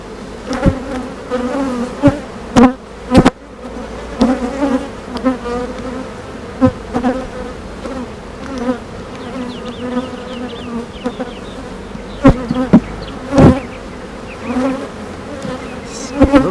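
Honeybees buzz throughout in an open backyard hive during a brood check, a dense close humming swarm with scattered clicks and knocks of frames being handled.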